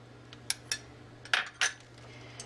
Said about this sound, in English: I'm going to stir that in because that will help thicken everything up.